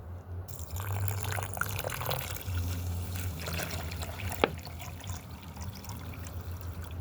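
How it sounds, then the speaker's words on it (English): Distilled water pours into an Epsom salt mix for reconditioning a battery, a faint trickle and splash with scattered drips and a sharp tap near the middle, quiet and close. "we're going to go ahead and mix in the"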